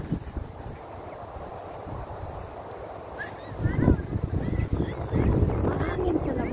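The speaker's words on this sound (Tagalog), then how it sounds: "Mahangin sa labas." Gusty wind buffets the microphone with a low, rumbling roar at a sports park in Xindian, New Taipei, Taiwan. A voice talks over it in the second half.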